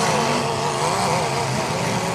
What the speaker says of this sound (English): Listen to that engine just screaming out there.